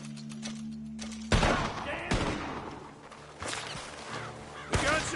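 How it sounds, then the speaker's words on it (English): A burst of gunfire comes from a barn in Red Dead Redemption 2, sharp loud shots and rapid volleys at intervals, separated by quieter stretches. "The gunshots are coming from that barn."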